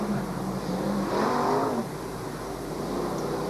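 A sprint car built on a Bailey chassis with an all-aluminium Rodeck engine races at a South Australian championship meeting, its engine roaring past at a distance, swelling briefly and then fading against a steady crowd and track din.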